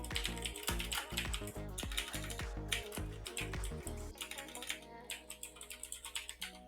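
Typing on a computer keyboard, rapid close clicks in irregular bursts with a low steady hum beneath, no speech.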